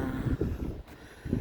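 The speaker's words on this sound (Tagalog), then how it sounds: "Mahangin din ngayon," Wind blowing across Liverpool lake in Pickering buffets the microphone in low rumbling gusts, close and steady, with no voices.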